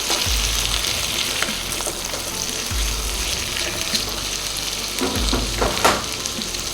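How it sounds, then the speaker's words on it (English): Green string beans sizzle in a pan with butter and garlic, a steady bright fry running throughout, broken by a few low scraping stirs as they are tossed to coat. "And I'm now going to throw in my beans, string beans. Give it a nice stir."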